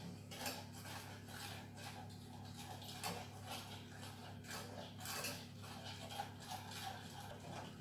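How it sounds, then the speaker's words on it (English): Ingredients being stirred together in a bowl, a faint, rhythmic scraping and tapping of a utensil against the bowl with a steady low hum beneath. "Stir that together."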